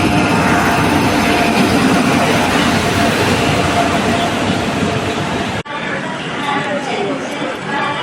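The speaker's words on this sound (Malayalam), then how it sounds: "തിരുവനന്തപുരം ചെന്നൈ മെയിൽ പ്ലാറ്റ്ഫോമിലേക്ക് എത്തിച്ചേർന്നിരിക്കുകയാണ്." The Thiruvananthapuram–Chennai Mail train arriving at a railway station platform, a loud steady rumble with crowd chatter throughout, dropping abruptly to a quieter platform murmur near the end.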